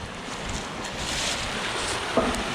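Creek water rushes steadily out through a torn-out dam by a bridge, a continuous broad wash, fairly close, mixed with wind buffeting the microphone.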